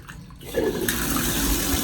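A Delta shower faucet is turned on and water gushes out, a quiet start followed by a sudden, loud, steady rushing spray that continues to the end.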